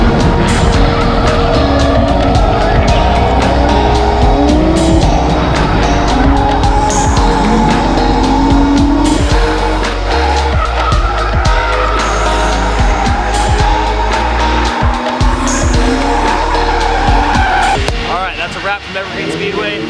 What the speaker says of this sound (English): antsy to drive, so just messing around here in this little skid pad area